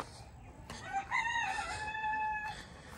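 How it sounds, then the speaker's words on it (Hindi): A rooster crows once, clear and fairly close, over a low background of farmyard chickens, with a few faint clucks around it. "मुर्गे भी वो फिर रहे हैं यहाँ पे।"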